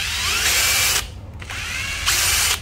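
A Makita TD141 cordless drill running in drill mode: two loud, high whirring bursts with a brief pause between them, spinning up and stopping abruptly, close to the microphone and without voices.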